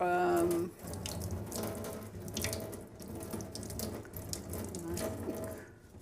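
Running tap water splashes steadily over a piece of anodised metal being rinsed after coming out of a hot anodising bath, a continuous close wash with small clinks, no voices.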